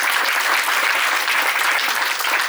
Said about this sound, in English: let's applause first for everything that you do